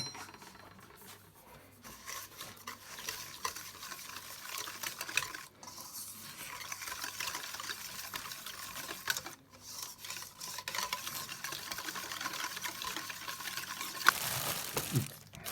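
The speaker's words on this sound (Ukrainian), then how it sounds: "Замішуємо опару." A spoon scrapes and swishes through a thick, wet dough starter of flour in a bowl, steady stirring strokes with brief pauses, close by and moderately quiet.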